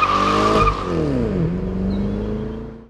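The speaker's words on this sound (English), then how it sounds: "This is the Calais V Series 2 V8 wagon, Sportwagon Holden calls it." A 2016 Holden Calais V Series 2 Sportwagon with an LS3 V8 roaring hard, its tone dipping and rising as the tyres squeal, loud and close, then fading out.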